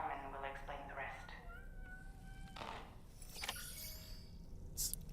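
A cat meows a few times in the video game Death Stranding 2, soft drawn-out calls set under talking and faint game ambience.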